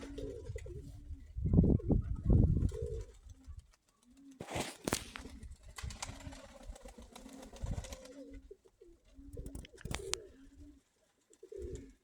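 Pigeons, including red birds in a separate compartment, coo in bursts with brief pauses and some sharper calls or knocks, heard alone without speech.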